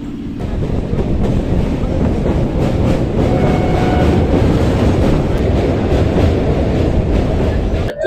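A local train runs between Ranaghat and Bethuadahari, heard from inside as a loud, constant roar of wheels and carriage rumble with a faint rhythmic clatter, steady for the whole stretch.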